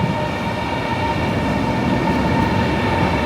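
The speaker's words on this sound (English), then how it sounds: "All right, well, here comes the train." High-speed train pulling into a Shanghai station platform, a steady close rumble and hum of rolling cars with no voices.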